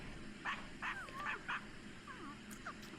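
Puppies in a pet life-simulation game give a few short, high yips and barks in quick bursts over a quiet background, with a couple of whiny squeaks between them.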